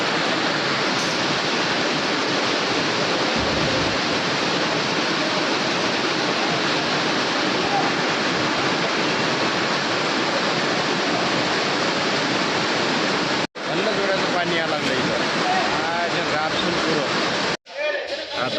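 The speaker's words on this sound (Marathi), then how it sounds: "ते एवढं जोरात पाणी यायला लागलं की भयानकच जोरात एवढा आवाज आहे" Heavy rain pours down at a market yard where chickpeas were brought to sell, a loud, dense, steady roar close by that drops out sharply twice near the end.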